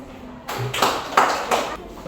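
A classroom gives a short round of applause for group 4, brief bursts of clapping from a group of students in a reverberant room.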